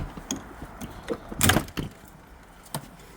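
Plastic door panel of a 2008 Buick Enclave being pried and pulled off, giving a few scattered clicks and clacks with one louder cracking, rattling burst in the middle, close up with no talking.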